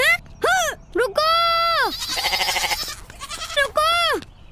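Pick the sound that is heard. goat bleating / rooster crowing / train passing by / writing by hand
goat bleating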